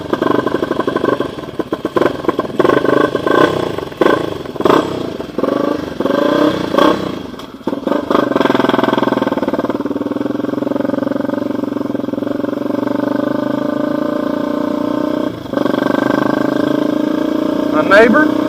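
A Honda XR250 dirt bike engine runs and revs loudly up close, with choppy bursts of throttle in the first half giving way to a steady, sustained drone, while a person talks over it.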